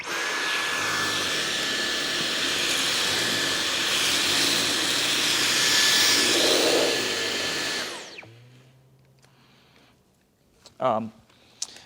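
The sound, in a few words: Dyson V11 Animal cordless vacuum running on high on carpet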